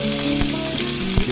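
Paneer pieces fry in a hot pan, giving a loud, close, continuous sizzle with a couple of brief stirring clacks and no speech.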